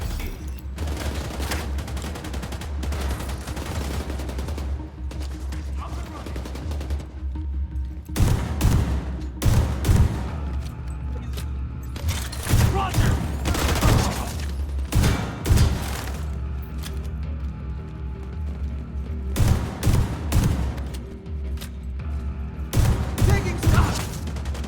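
Gunfire in the video game The Division 2, dense bursts of rapid shots and booms repeating throughout, loud and close over a steady background rumble.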